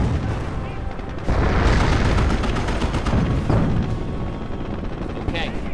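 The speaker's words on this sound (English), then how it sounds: "We're taking fire." Gunfire and artillery in Company of Heroes, a dense, loud battle with rapid shots and booming blasts that carry through the whole clip, under a voice speaking.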